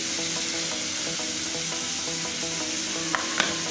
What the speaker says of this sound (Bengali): এবারে একে একে তেলটা গরম হয়ে গেছে, এতে পেঁয়াজ কুচি, রসুন বাটা, ক্যাপসিকাম কুচি